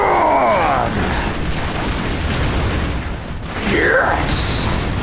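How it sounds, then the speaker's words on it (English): Explosions blast and rumble continuously in the Broforce video game, a dense loud roar with bursts at the start and near the end, while someone shouts excitedly over it. "Yeah, explosions! That's what it's all about!"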